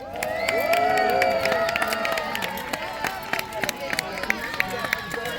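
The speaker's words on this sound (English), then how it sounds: "Come on, cheer them on!" A festival audience at Arundel Castle cheers and claps for medieval knights fighting in armour, a close, lively mix of shouts, whoops and scattered sharp claps with crowd chatter underneath.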